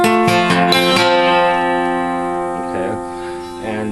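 An acoustic guitar is fingerpicked through the first bar, with a few quick plucked notes and then a sustained, ringing chord that slowly fades, close and clear.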